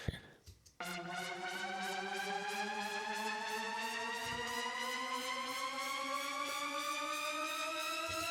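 A synthesized riser effect whose bright, buzzy tone slides steadily upward in pitch over several seconds, sustained and alone after a short burst at the start.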